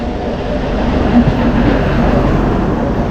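The Dhubri DEMU Intercity Express, train 75741, rumbles along between Guwahati and New Jalpaiguri, heard from on board as a loud, steady roar of wheels and carriage noise that swells slightly midway.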